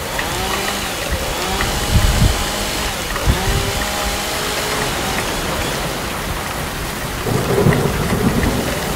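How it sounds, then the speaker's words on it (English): Heavy rain pours steadily as thunder rumbles and cracks a few times, loud and close, with a deeper roll near the end. "It's a thunderstorm!"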